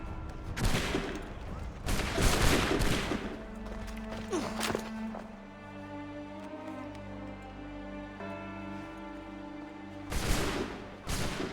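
Musket volleys from a firing line in Assassin's Creed III: dense bursts of massed gunfire near the start, a quieter stretch with a low rumbling bed and scattered crackle, then another loud volley at the end.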